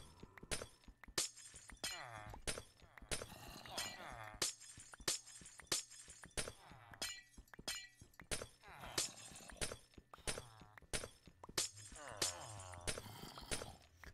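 Glass blocks in Minecraft breaking in a steady, rapid series of sharp shattering crunches, loud and close, repeating throughout without pause.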